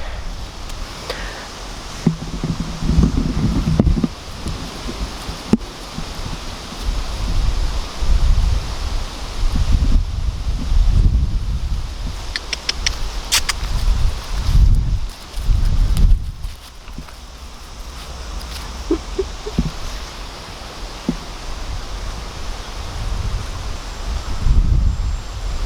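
Wind buffeting a Q Mic Lab microphone outdoors on a cold, breezy day, a steady rough rumble with gusty low thumps and rustling throughout, loud and close with no clear speech.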